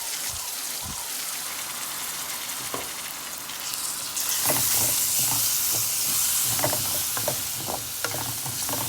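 Chopped large tomato drops into a hot pan for soya masala curry, setting off a crackling sizzle that grows louder midway, with scattered spatula scrapes and taps over the continuous frying.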